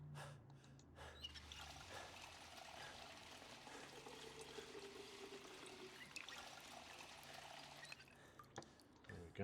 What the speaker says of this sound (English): Let's fill up our water bottles